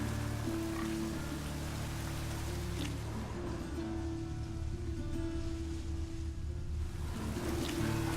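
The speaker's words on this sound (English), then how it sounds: "Raining again." Rain falls in The Witcher 3: Wild Hunt as a steady, close wash of drops patters continuously, layered over a low, humming ambient drone with no speech.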